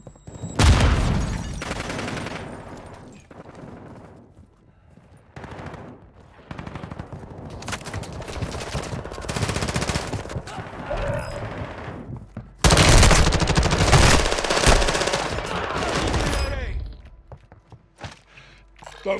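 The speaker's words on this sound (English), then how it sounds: "Throwing decoy grenade!" Gameplay from Call of Duty: Modern Warfare II as a decoy grenade goes off, loud rapid bursts of automatic gunfire in long stretches broken by short pauses, with mechanical clatter and no speech.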